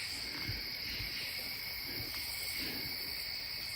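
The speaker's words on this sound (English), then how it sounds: "we can hear some of the night bugs, but they're not like close to us" Night insects drone in a steady, distant chorus under a full moon in a wooded hollow, with faint owl-like hoots and soft low knocks mixed in the quiet background.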